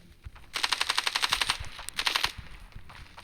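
Machine gun fire in the mobile shooter Standoff 2: a rapid, evenly spaced burst of about fifteen loud shots that briefly stops, then resumes with a shorter volley before cutting off.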